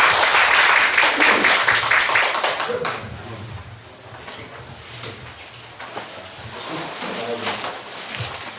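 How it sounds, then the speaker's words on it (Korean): Clapping from a church gathering welcoming the pastor, a short burst of hands for about three seconds that quickly dies away into quieter room sounds with talk. "우리 손 목사님 우리 박수로 환영하겠습니다"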